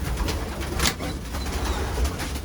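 Racing pigeons in the cock section of a wooden loft coo softly and continuously, with low throaty calls, light rustling and a brief flutter close by.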